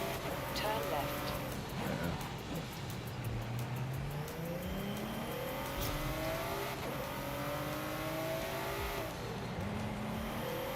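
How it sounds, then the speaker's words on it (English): A drift car's engine revs and surges as it drives, with rising and falling engine pitch and brief tire squeals, near and loud, while a voice talks at times. "It's one of those drift cars."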